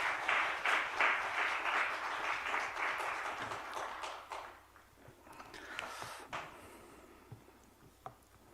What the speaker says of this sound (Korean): 우리 귀한 목사님 보내주신 하나님께 우리 영광의 뜨거운 영광의 박수로 하나님께 영광 올려드리겠습니다.